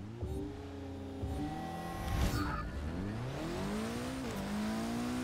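A rear-wheel-drive Mitsubishi Evo making a quarter-mile run in the racing video game Forza 6, its engine revving and climbing through gears, with a whistling turbo spool and a brief tire chirp near the middle, steady and close.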